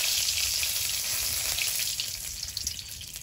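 Dried red chillies and curry leaves hit hot oil in a kadai as a dal tempering, crackling in a bright, steady sizzle up close that eases off slightly toward the end.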